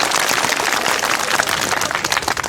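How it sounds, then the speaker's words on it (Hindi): A crowd at a public gathering claps on request, a dense and steady wash of applause that holds loud and unbroken from start to end. "ताली बजाइए"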